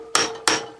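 Two sharp metallic strikes ring out about a third of a second apart as a 10mm bolt is broken loose on a Honda CT70H engine. Both are close and loud, with no talk.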